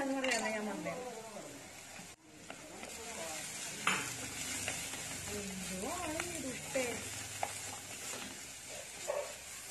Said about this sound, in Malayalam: ഇനി ഇതൊന്ന് നന്നായിട്ടൊന്ന് വഴറ്റിയെടുക്കാം.